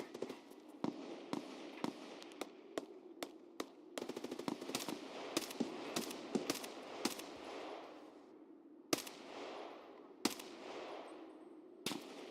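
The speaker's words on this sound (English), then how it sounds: "That sounds like a big caliber rifle." Big-caliber rifle gunfire in Escape from Tarkov: a long run of sharp, loud shots, some isolated and some in fast bursts, cracking across the whole clip with brief pauses, and no talk.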